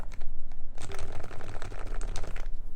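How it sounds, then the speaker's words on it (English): Typing on a Topre switch mechanical keyboard: a close, dense run of muted, thocky keystrokes in a quick irregular rhythm, alone and fairly loud. "The sound of Topra here."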